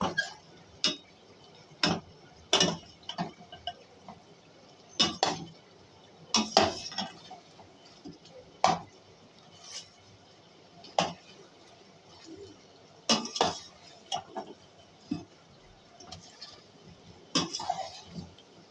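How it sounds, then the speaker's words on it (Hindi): A spoon stirs chicken nihari in a pot after cinnamon powder, mace, nutmeg and dry ginger powder go in, giving irregular metallic clinks and scrapes against the pot for nearly twenty seconds. The clinks are moderately quiet, with soft room noise between them. "अच्छे तरीके से चलाएंगे अपना चमचा इसमें, ताकि मसाले सारे मिक्स हो जाएं"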